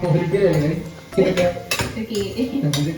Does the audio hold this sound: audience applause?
no